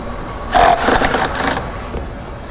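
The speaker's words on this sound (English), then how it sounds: "They're 13 millimeters, so you need to either a ratchet or, in my case," An electric ratchet spins off 13 mm bolts while a Jeep soft top is being fitted, giving a short whirring motor burst of about a second, close and fairly loud, then fading.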